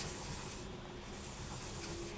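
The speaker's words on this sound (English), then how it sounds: "You're just going to sand it like so." Brisk, continuous scratchy rubbing of sandpaper against a small piece of hard polymer clay, close up and steady throughout.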